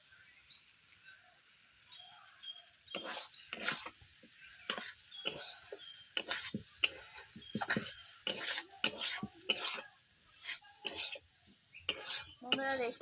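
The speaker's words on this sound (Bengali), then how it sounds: "আমি ব্রকলি দেওয়ার পর আমি নেড়ে নিয়েছি" Broccoli being stirred in a cooking pan over spiced oil, heard as a series of close, irregular scraping and clattering strokes against a soft sizzle, beginning after a quiet opening.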